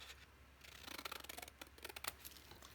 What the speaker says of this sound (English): I'm going to cut it down. And I'm just going to use scissors